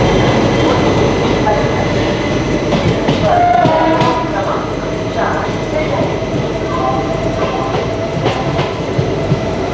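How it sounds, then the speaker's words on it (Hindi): Udhampur Express train at a station platform, a loud continuous rumble of railcars with occasional squeals and clanks, and a faint background voice. "उधमपुर एक्सप्रेस चलने को तैयार"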